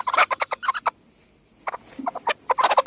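Hens in a Konkan village yard give a run of short, repeated clucks in two bursts separated by a quiet gap, fairly close and loud with no talking.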